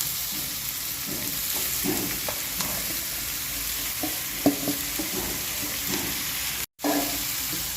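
Asafoetida and vegetables frying in hot oil in a pan, a steady close sizzle and crackle with soft scattered pops and stirring scrapes throughout.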